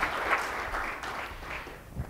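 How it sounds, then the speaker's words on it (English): Audience at a breakfast panel discussion giving a round of applause, a fairly quiet, even patter of clapping that carries on for a couple of seconds. "Maybe a round of applause, including the breakfast."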